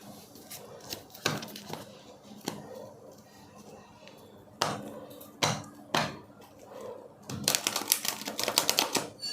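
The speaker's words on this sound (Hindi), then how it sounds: "तो मैं इसको साइड कर देती हूँ और फिर कार्ड्स निकालते हैं।" Tarot cards being taken out and handled during a candle-wax reading, heard as soft irregular shuffles, taps and flicks close by, with a denser flurry of riffling near the end.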